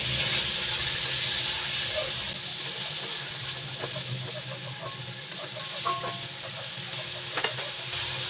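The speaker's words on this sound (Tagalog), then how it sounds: "Habang ginigisa natin yung ating chicken at saka atay ng manok" Chicken and chicken liver sautéing in a pan, a steady close sizzle and hiss with occasional soft clinks of a utensil stirring through it.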